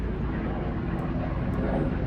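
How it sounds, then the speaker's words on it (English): A low-flying Black Hawk military helicopter passes overhead, a steady rumbling engine drone that holds evenly at moderate loudness with no voices. "Oh, it's a military helicopter."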